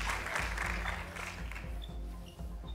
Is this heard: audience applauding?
yes